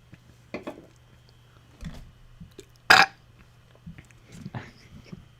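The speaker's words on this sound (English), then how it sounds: "Do you think every sip for you comes with a burp?" A single loud, abrupt burp after a sip of water rings out close to the microphone, surrounded by quiet room noise and soft scattered sounds.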